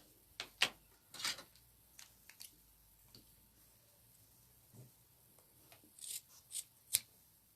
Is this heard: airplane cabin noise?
no